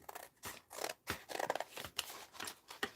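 Scissors cut through paper in several quick, uneven snips with crisp rustling between strokes, quiet and close, with no talking.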